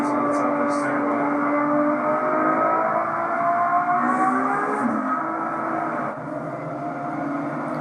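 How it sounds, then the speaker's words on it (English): A BMW B58 engine hums steadily from inside the car while driving in traffic, a sustained moderately loud tone with slight rises in pitch, no sharp revs, and speech faintly underneath. "That's one of those engines that sounds like it wants more revs."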